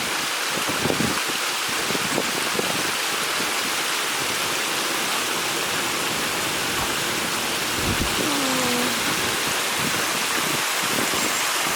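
Steady, heavy rushing floodwater with a dense rain hiss, continuous and loud throughout, with no voices.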